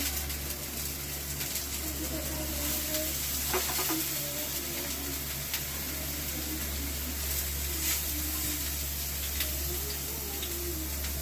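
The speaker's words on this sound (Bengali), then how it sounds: "তেল আমার গরম হয়ে গিয়েছে প্রথমে আমি বেগুনগুলোকে সাজিয়ে দিচ্ছি" Brinjal slices laid into hot oil for a brinjal and egg omelette, giving a steady, close sizzle with faint crackles and no voices.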